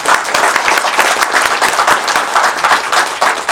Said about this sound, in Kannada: ಹೇಗ ಅನ್ನಿಸ್ತು ಅಂತ ನಿಮ್ ಚಪ್ಪಾಳೆ ಮೂಲಕ ಕೊಟ್ರೆ ನಮಗೂ ಒಂದು ಖುಷಿ ಆಗುತ್ತೆ